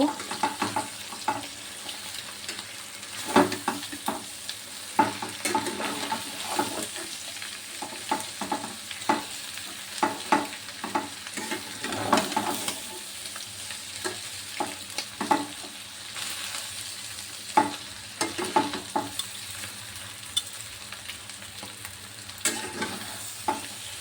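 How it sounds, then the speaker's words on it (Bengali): Boiled chow mein noodles with potato and egg frying in a pan, stirred steadily with a spatula; a continuous sizzle runs under repeated scraping and clacking strokes, fairly close and at a moderate level throughout, with no talk. "চাউমিনটা ভালো করে ভেজে নেব।"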